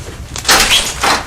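A door is pushed open during an officers' house search, a loud near thump and scrape followed by a second rustling impact, with no talking.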